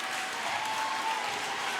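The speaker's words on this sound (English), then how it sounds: "This crowd is into it right now." Basketball crowd at a De Soto boys' game against Piper, a steady wash of cheering and clapping filling the gym, loud and continuous with no pauses.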